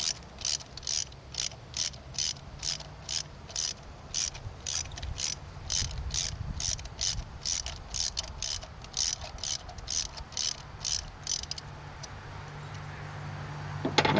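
A socket ratchet works loose a spark plug on a 2010 V6 Camaro, giving a long regular run of crisp clicking bursts that stops near the end, leaving a low background hum.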